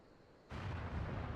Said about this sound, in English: Cannon fire! Where did it come from?